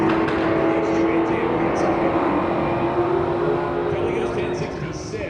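Engines roar loudly and continuously as a nitrous Mustang and a Firebird race down a drag strip, fading slightly near the end as they pull away, with a voice talking over the noise.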